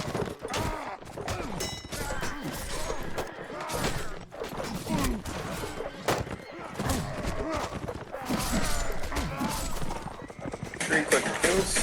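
Horse hooves clip-clop amid neighing and combat clatter in an online team video game match, with the rhythm varying and an excited commentator talking over it.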